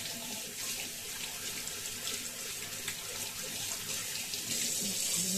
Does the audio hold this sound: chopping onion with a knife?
no